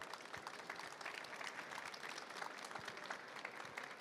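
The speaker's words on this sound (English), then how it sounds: "So let's give a round of applause to these two amazing innovators." Audience applause for speakers at the close of a conference session on energy markets, a dense, even patter of many hands clapping, fairly faint and continuous, with no talking.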